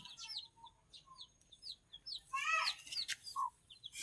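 Scattered chirps and clucks from chickens near their coop, short bursts with pauses, one louder squawking flurry midway, fairly close with no talking.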